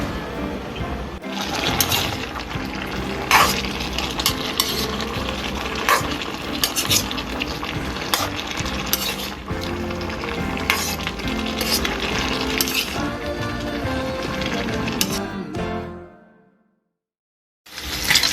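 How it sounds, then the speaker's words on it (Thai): Pork skin renders in its own fat while a spoon stirs steadily through it, a dense crackling sizzle with scraping that runs continuously before cutting off near the end. "ตอนนี้ก็น้ำมันจากหนังหมูเริ่มออกมาแล้วนะคะ พยายามคนตลอดนะ"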